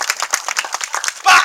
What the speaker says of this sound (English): Give a big round of applause, eh?